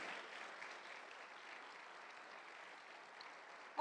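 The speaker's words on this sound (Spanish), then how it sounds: "Denle un aplauso a Cristo bien fuerte, que Él es bueno." A church congregation claps for Christ during a sermon, a faint, even wash of applause that stays steady and distant, with a sudden loud noise at the very end.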